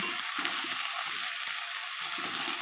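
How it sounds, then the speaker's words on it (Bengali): Chopped vegetables such as potato and radish frying and being stirred in a pan over low heat, a steady close sizzle with soft scraping strokes of stirring, no voices. "যে আনাজগুলো আমি কেটে রেখেছিলাম সেগুলো দিয়ে হালকা করে নেড়ে চেড়ে ভালো করে ভেজে নেব"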